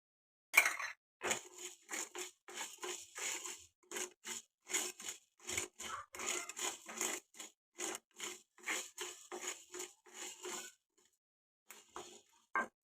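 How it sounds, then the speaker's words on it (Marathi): Black pepper dry-roasts in a pan while being stirred, a long run of quiet, rhythmic scraping and rattling strokes, close and steady, then a brief pause near the end. "आता काळी मिरी भाजूया आपण"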